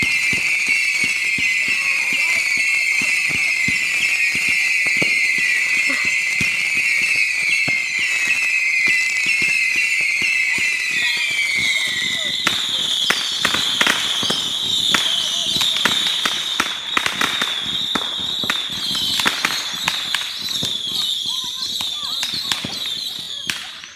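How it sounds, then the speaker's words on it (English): Fourth of July fireworks close by, with long shrill whistling tones that shift pitch midway, overlaid by a rapid stream of sharp crackling pops and bangs that continue throughout. "Today's 4th of July, and as you see from the intro, we're playing some fireworks."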